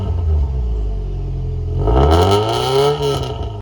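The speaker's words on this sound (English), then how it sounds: "This is a special exhaust that has been tuned by STI" A Subaru WRX STI 2.0L turbo engine idles through an STI-tuned catback exhaust taken from a Bugeye, a low steady burble that rises into a loud rev around the middle and then eases back down.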